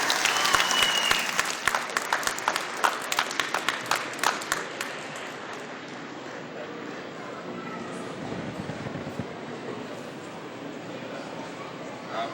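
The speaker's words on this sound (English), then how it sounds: "Please give her a round of applause." An audience at a Festival Sundiata celebration claps loudly to welcome keynote speaker Carl Mack, sharp dense applause in the opening seconds that thins into a softer room murmur.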